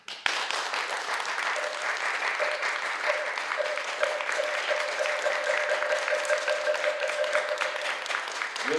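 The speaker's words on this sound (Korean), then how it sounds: "모두 환영의 큰 박수로 큰 스님을 환영해 주십시오." Sustained applause from a seated audience welcoming a senior Buddhist monk at a university staff Dharma service, steady and dense for several seconds at moderate distance, with a faint tonal hum running beneath.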